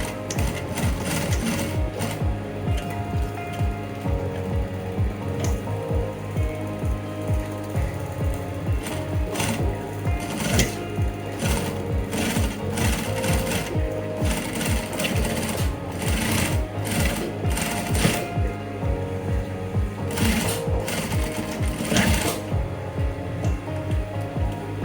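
A sewing machine top-stitches a trouser front pocket, running in fast, rhythmic bursts of needle strokes close up, with brief pauses between runs and no voices.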